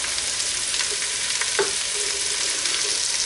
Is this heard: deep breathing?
no